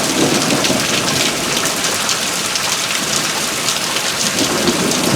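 Heavy rain pours steadily during a severe nighttime thunderstorm in Tornado Alley, a dense close hiss with low thunder rumbling underneath and no voices.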